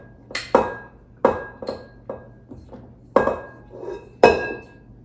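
A utensil scrapes bread dough out of a metal Instant Pot inner pot: several sharp clinks and scrapes in an uneven rhythm, close and fairly quiet, with no talking.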